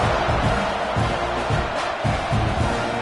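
A stadium crowd at a football game roars in a dense, sustained wash of cheering and shouting, loud and continuous throughout.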